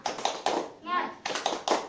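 Quick bursts of hand claps from a group of children in a short rhythmic pattern, broken by a brief voiced shout, then more claps.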